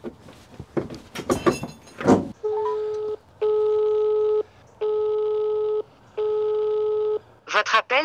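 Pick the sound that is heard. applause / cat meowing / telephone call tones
telephone call tones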